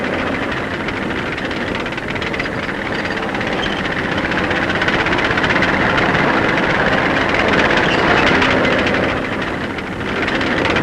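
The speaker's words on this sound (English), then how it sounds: "Persian tanks, rumbling up to spearhead the action to come." Tanks rolling forward in wartime Korea, 1951, a loud, continuous, heavy rumble with grinding mechanical roar and hiss that swells slightly and fades toward the end, with no voices.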